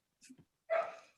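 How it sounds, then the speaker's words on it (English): A dog barks in the background, a brief muffled yelp followed by one louder bark that fades quickly, in an otherwise quiet room. "There's a dog barking."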